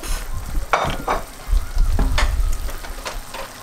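Cheese melts and sizzles in a frying pan, a steady close crackle with a few scraping stirs and knocks of a utensil against the pan.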